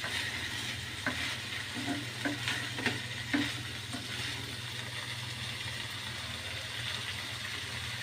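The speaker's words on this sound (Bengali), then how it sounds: "বুট ভাজা করতেছি।" Chickpeas fry in a hot pan with spices while a utensil stirs them, giving a steady close sizzle broken by a few sharp scraping knocks, over a low constant background hum.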